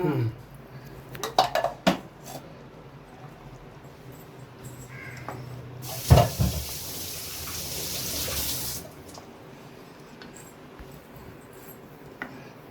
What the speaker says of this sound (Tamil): மிக்சி ஜாரை கழுவி உள்ளே ஊற்றிக்கிறேன்